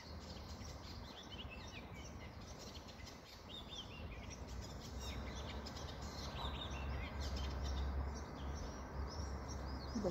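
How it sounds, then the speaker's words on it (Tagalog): Birds chirp and tweet in a garden, a steady scatter of small calls over a continuous outdoor background hiss with a low hum creeping in toward the end. "The bird is singing"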